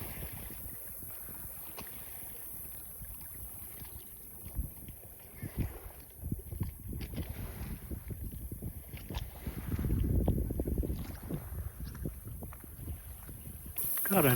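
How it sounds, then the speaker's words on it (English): A homemade wooden punt is paddled across open water, with irregular knocks and sloshing water against the hull under steady wind rumble and a hiss, swelling to a louder surge of splashing near the end. "So you definitely notice that sound, and it's something you wouldn't really even think about until you've paddled or sailed a wooden boat."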